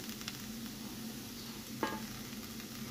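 Chopped green chillies and onion sauté in a pan for prawn kinna pathiri, giving a faint, steady sizzle with a soft spatula scrape near the middle, quiet and without talk.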